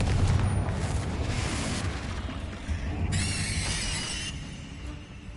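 Blasting-spell explosions in the Hogwarts Legacy video game inside a tomb: a loud, booming burst with debris crackle, followed by a bright shimmering magical tail fading out.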